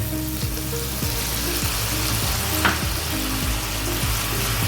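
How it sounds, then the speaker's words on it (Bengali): Poppy seed paste frying in a pan with fish pieces, a dense steady sizzle with rhythmic scraping strokes of a spatula throughout, no voices. "এখানে পোস্ত বেটে রেখেছিলাম পোস্তটা আমি দিয়ে দেবো এখানে"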